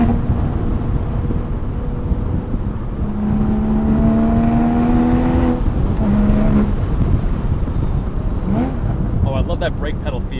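A 2016 Porsche 981 Boxster Spyder engine with the Porsche Sport exhaust open, revving toward 7,500 RPM in rising tonal sweeps over heavy wind rush from a moving car, loud and continuous.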